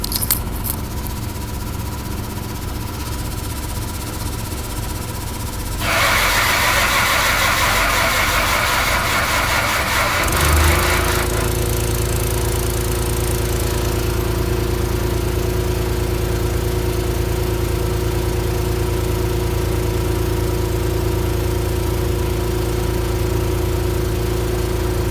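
A Mack R600 truck's diesel engine cranks over loudly and close by, then catches and settles into a steady, rumbling idle that runs on to the end, with no one talking.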